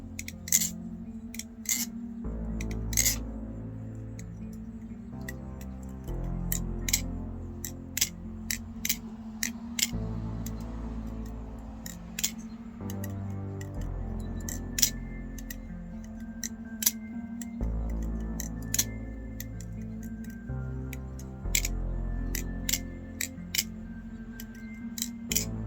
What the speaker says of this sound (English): this is one of the most titanium sounding aluminum balisongs that I've ever heard